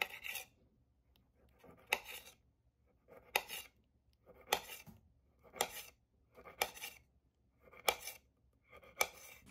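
Knife slicing through grapes on a plate in a home kitchen, eight crisp cutting strokes at a steady rhythm roughly one per second, close and fairly quiet with no talk.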